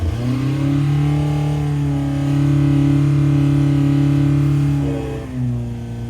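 A car engine holds steady revs under load on a dyno, a loud, close, sustained drone whose pitch rises slightly midway and then drops near the end, with no voices.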